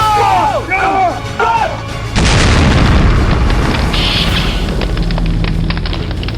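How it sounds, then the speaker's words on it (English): A bomb explosion sound effect: after a few brief shouted voices and whistling squeals, a sudden loud boom erupts and rolls into a long, heavy rumbling decay that fills the rest of the clip. "Bomb!"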